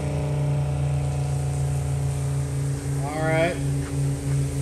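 Pumps drive water streams through a Super V-Ball nozzle with a steady, loud engine drone and broad rushing spray throughout, and someone speaks briefly over it.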